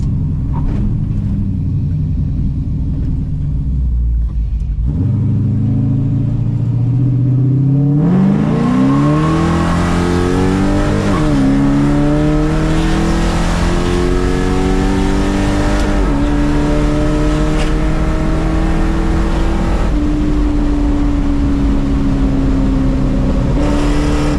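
A car engine fitted with a Hughes Whiplash cam revs hard under acceleration, a loud close rumble whose pitch climbs steadily through the gears with a few shift breaks, starting from a low idle-like burble.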